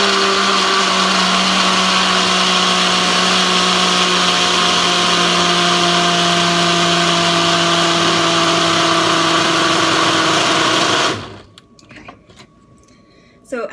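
A loud blender whirs continuously for about eleven seconds mixing a Shakeology shake, then cuts off abruptly, leaving quiet room noise with a few faint clicks.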